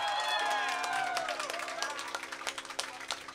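A crowd of audience members applauds at a live event, a dense patter of clapping from a room full of people with voices and whoops mixed in.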